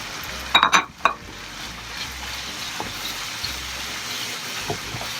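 Chicken frying in a pan for spaghetti Bolognese, opening with a few bright crackling bursts as the pieces go in, then settling into a quiet steady sizzle with occasional soft pops.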